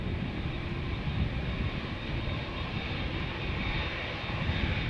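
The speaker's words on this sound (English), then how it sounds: "airliner that you see in the background, that would be flight 221 to Dallas Fort Worth, Texas" Airliner jet engines roar steadily during a departure at Amsterdam Schiphol Airport, a loud, continuous broadband rumble with no talk over it.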